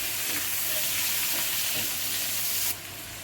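Onion and chopped tomato fry in an iron pan, giving a dense, loud, hissing sizzle that drops off abruptly near the end.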